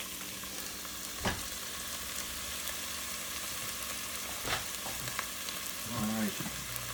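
Garlic frying in a pot for an eggplant korma, a steady soft sizzle running throughout with a few louder stir scrapes and a brief bubbling burst near the end, no talk.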